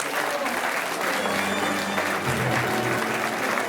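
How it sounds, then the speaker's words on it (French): An audience applauds the event organisers at a local association's section party, a steady, dense wash of clapping that holds at an even level from start to finish, with a low murmur of voices underneath. "je vous demande de les applaudir parce qu'ils le méritent"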